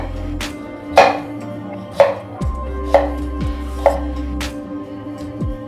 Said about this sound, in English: And then you can chop these onions in another way.